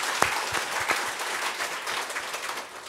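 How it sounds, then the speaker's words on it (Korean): A church congregation claps together in sustained, dense applause, a steady wash of many hands close around, with scattered sharper claps standing out and no speech. "Give a round of applause to our living God."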